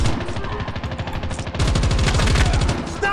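Rapid automatic fire from the S36 rifle in Call of Duty Mobile, a loud continuous stream of close shots that grows denser and harder partway through.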